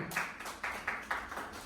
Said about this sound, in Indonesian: Tambah pelan gitu tepuk tangan ini.